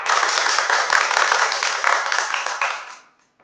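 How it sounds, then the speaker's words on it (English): An audience breaking into dense, enthusiastic clapping for a cooking contest winner, steady and close for about three seconds before quickly stopping. "Please, a round of applause."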